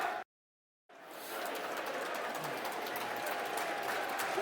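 Football crowd at Millwall's stadium applauding during a match against Derby County, a sustained distant wash of clapping that follows a brief silence at the start, with no talk.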